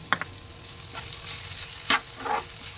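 Beetroot frying in oil in a pan, giving a low, steady sizzle with a few crisp spatula scrapes and stirring clinks. No voice is heard.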